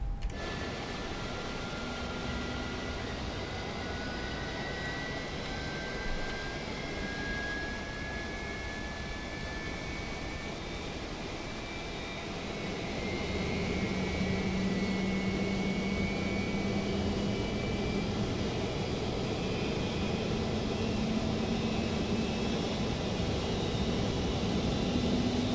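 A Boeing 777 jet engine whines and rumbles steadily in Microsoft Flight Simulator 2024, its hum rising and thickening partway through as the engine spools up, with no talking.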